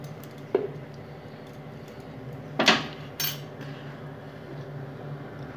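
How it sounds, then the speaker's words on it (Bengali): Ghee being stirred into lentil khichuri in a pot, a few sharp metal clinks of a spoon against the pot spaced over quiet background, one louder scrape in the middle. "ঘিটা একটু নাড়িয়ে দেবো"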